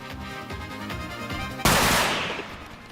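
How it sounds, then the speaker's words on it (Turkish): A burst of rapid gunfire in a multiplayer shooter game, a quick run of close shots followed by one loud sharp blast that rings out and fades over the next second. "Abi benim takımdaki adam beni mi vurdu?"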